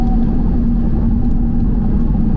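Close-up interior sound of an Audi TT RS accelerating hard, its engine droning loudly with a steady low growl and a sustained tone through the whole stretch, no voices.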